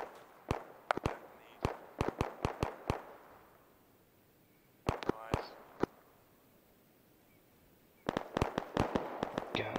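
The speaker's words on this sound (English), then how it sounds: "I hear weaponry going off at our cop." Weapons firing in Arma 3 during a team-versus-team war games operation: sharp distant gunshot cracks in quick bursts, pausing, then resuming in a rapid volley, alone against quiet ambience.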